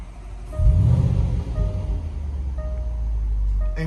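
A 2017 Range Rover SVR engine cranks and fires up with its exhaust valves open, a loud low rumble swelling quickly and then settling into a steady, deep idle.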